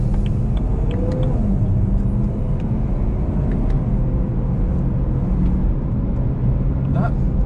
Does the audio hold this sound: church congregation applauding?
no